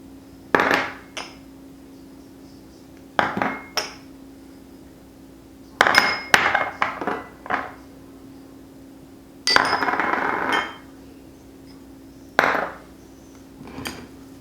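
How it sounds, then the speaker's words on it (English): Brown sugar pork rub ingredients get whisked together in a bowl, making scattered clinking and scraping bursts of metal against the dish. Quiet pauses fall between the short, close rattles. "What we're gonna do is just combine all of the ingredients and whisk together."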